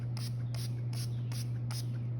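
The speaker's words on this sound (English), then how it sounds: "I am going to spray right on top of my stencil" A squirt bottle of diluted paint sprays over a hand stencil in five quick, evenly spaced hissing bursts, close and soft, with a steady low hum underneath.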